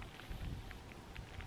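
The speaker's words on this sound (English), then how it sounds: "Actually raining." Light winter rain falls at a mountain campsite in a soft, faint patter of scattered drops over quiet background hiss, brief and without speech.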